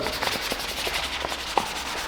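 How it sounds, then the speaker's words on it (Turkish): Hand sanding of a car part before carbon coating: rhythmic rubbing strokes of sandpaper, close and fairly loud, repeating steadily with no talk. "Tekrar eşliğinizde zımparalıyorum ben."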